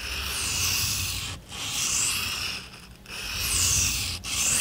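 A Mora Bushcraft Forest knife is stroked across a ceramic sharpening stone in long, steady rasping passes, three or four strokes with short pauses between them, close and clear.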